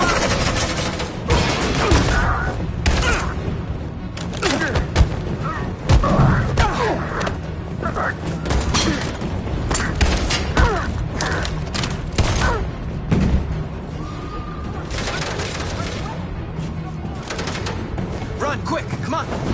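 Gunfire in the video game Detroit: Become Human, with sustained shots, thuds and crashes filling the scene at close range while voices shout over the fight.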